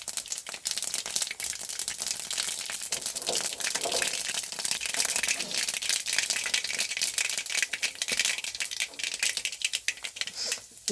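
Mustard seeds splutter and pop in hot oil in a home kitchen, a dense, irregular crackle of sharp snaps that runs continuously at close range.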